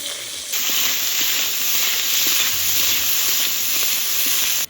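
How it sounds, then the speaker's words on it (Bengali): Chopped onions frying in oil with whole spices, a sudden steady hiss and sizzle that starts abruptly and holds at an even level before cutting off, no talking. "পেঁয়াজটা লাল লাল করে ভাজা হয়ে গেছে"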